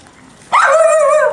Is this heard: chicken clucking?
no